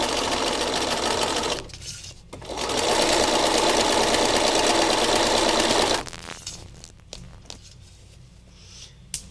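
A sewing machine runs fast and steady through fabric in two long stretches with a brief pause between, then stops, leaving softer handling taps and rustles.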